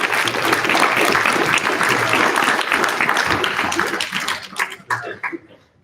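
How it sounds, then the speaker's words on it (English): A conference audience applauds after a presentation, loud dense clapping that carries steadily for several seconds before thinning out and stopping near the end. "Please give a big applause to Nicolas, Philip, and Kenny"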